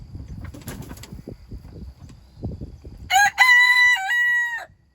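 A rooster crows loudly once, a long strained call, after a stretch of quiet rustling and faint background noise.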